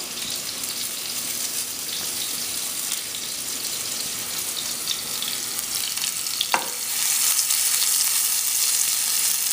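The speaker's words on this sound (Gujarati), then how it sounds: "એક વખત આપણે અહીંયા કબાબ શેકાઈ જશે, ફાઇન તે તળાઈ જશે" Continuous bright sizzle of meatball kebabs frying in oil, close and steady, with a single sharp clink partway through and the hiss swelling slightly afterward.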